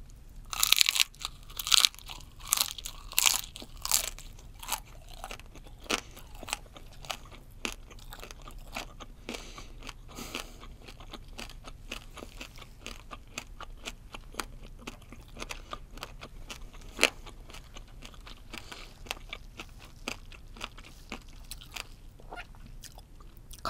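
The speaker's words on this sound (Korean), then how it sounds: "이번엔 튀긴 보리새우를 먹어볼게요." Fried kuruma shrimp is bitten and chewed right at the microphone, with loud crisp crunches that come thickest at first and then settle into a steady run of crackly chewing, with no talk.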